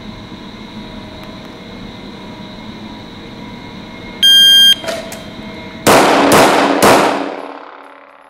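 Three sharp pistol shots ring out in quick succession near the end of pistol drills at a bootcamp range, each a loud crack with a short ringing tail, preceded by a steady background hum and a brief electronic beep.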